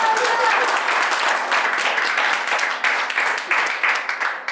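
Steady applause from a crowd, dense clapping filling the whole stretch and thinning slightly toward the end.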